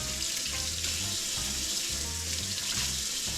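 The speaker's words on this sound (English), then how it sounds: "I'm just rinsing it off right now over in the sink before I start my little breading process here." A kitchen sink faucet runs steadily while fresh crappie fillets are rinsed under it, a continuous close splashing hiss with low gurgling beneath.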